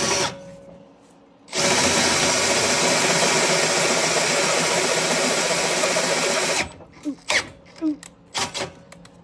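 A Makita 18-volt cordless power drill runs at a steady high whine for about five seconds at close range, then stops and leaves a few short knocks and clatters.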